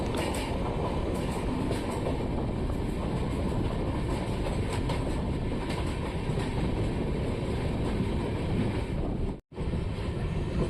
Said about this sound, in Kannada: ನಮ್ಮ ಟ್ರೈನ್ ಈಗ ಚಿಕ್ಕಜಾಜೂರು ಜಂಕ್ಷನ್ಗೆ ಎಂಟ್ರಿ ಆಗ್ತಿದೆ, ಪ್ಲ್ಯಾಟ್ಫಾರ್ಮ್ ನಂಬರ್ 2ಕ್ಕೆ.